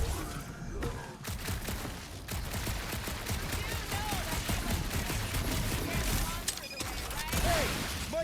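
Gunfire in Marvel's Guardians of the Galaxy in a dark alien ruin: a sustained stream of rapid shots for several seconds at moderate loudness, mixed with game effects and occasional voices.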